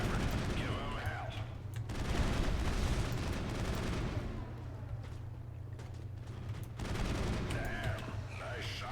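Rapid bursts of gunfire in the Mass Effect video game crackle almost continuously, dense and loud, rising and falling in waves over a low droning hum.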